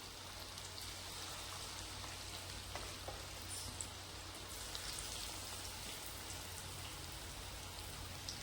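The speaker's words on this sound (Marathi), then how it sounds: "आणि हे आपल्याला ना एकदम मोठ्या गॅसवरती तळून घ्यायचंय बघा" Chicken 65 deep frying in hot oil over a high flame, a dense, even crackling sizzle that holds steady and fairly close throughout, with a low hum underneath and no voices.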